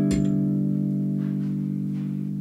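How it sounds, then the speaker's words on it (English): A single strum on a baritone ukulele rings out mellow and warm, then sustains with a long, steady tone that barely decays, close and alone. "first of all, it's a baritone ukulele"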